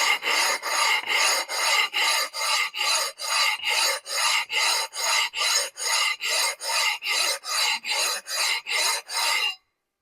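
A flat stone rubbed back and forth across an engine deck surface to flatten it, with about twenty steady, loud, evenly spaced gritty scraping strokes before it stops abruptly.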